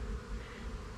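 Honey bees drone steadily around a heavy, nectar-filled hive frame, a dense close buzz that holds unbroken for the whole second with no voices.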